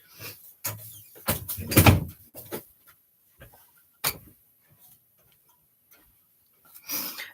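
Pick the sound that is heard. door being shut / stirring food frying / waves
door being shut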